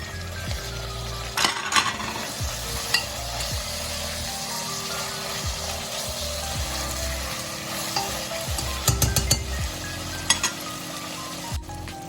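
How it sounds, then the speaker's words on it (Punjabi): Tomatoes go into browned onions frying in a pan for sambar, giving a close, steady sizzle with repeated scrapes and clinks of a spoon stirring against the pan, and no talking. "ਪਿਆਜ਼ ਆਪਣੇ ਬਰਾਊਨ ਹੋ ਗਿਆ ਹੁਣ ਆਪਾਂ ਇਹਦੇ ਵਿੱਚ ਐਡ ਆਨ ਕਰਾਂਗੇ ਟਮਾਟਰ"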